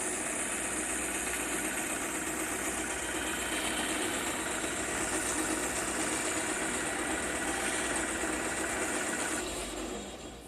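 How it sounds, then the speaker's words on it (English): A bandsaw runs in a woodworking shop with a steady, even motor drone and a bright high whir, holding at a constant level before easing off in the final second. "it's quite a luxury to have a bandsaw like this in the shop, but it sure does a great job."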